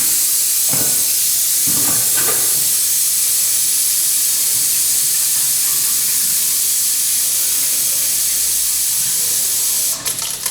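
Steam and air hissing steadily from a radiator bleed valve opened on a hot-water boiler system in a 187-year-old house, a constant broadband hiss lasting throughout with a few faint clicks near the start.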